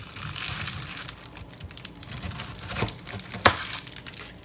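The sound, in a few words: cutting the top off a pineapple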